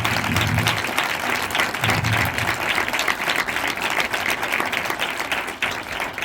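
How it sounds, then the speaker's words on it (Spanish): A crowd applauds steadily throughout, dense clapping at an even level from start to finish. "Lo que ahora sí os voy a pedir es un aplauso a ellos"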